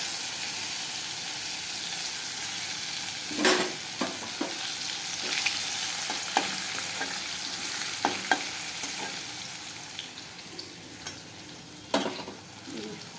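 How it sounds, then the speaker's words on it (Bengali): Garlic, bay leaves and whole garam masala fry in a little ghee in a karahi, giving a soft, steady sizzle punctuated by repeated spatula scrapes and knocks at uneven intervals, with no talking. "এখন রসুন সম্বারটা দিয়ে দিলাম।"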